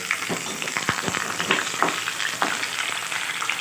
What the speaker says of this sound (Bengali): এইবার আমি আলুটাকে একটু ভেজে নেব